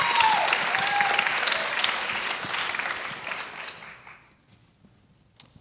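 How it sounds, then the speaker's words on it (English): An audience applauds at an annual children's rights event, with dense clapping that holds for several seconds and then fades out to near silence. "So let's give them another round of applause."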